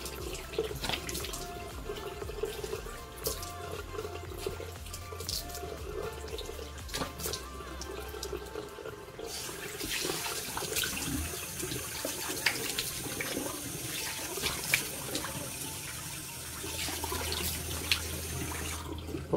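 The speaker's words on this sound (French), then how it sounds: "Là, j'ai fini de laver ma face." Running tap water flows steadily into a sink while someone washes their face, with splashing and shifting water sounds that change in texture partway through, close and continuous, with no talking.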